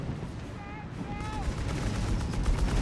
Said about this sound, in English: Post is under enemy fire.